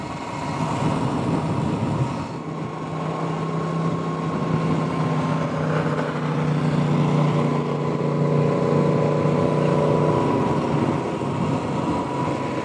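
A Ducati motorcycle engine runs on a street ride among traffic, a steady tonal drone that grows a little stronger and richer partway through and holds without talk.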